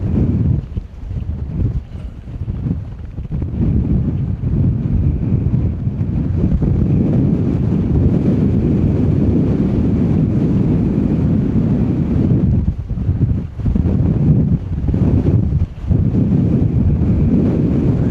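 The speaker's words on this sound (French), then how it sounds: "Comme d'habitude, il y a beaucoup de vent." Strong outdoor wind buffets the microphone in a loud, continuous low roar with gusty surges, heard on a windy walk up Montaña Guanapay to Castillo Santa Barbara on Lanzarote.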